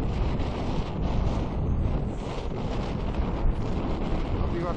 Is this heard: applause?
no